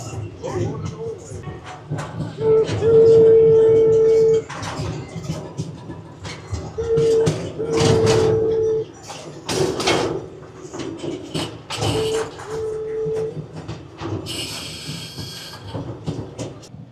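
A small open-air zoo train at San Antonio Zoo rumbles and clatters along, with a few short horn toots and people talking nearby.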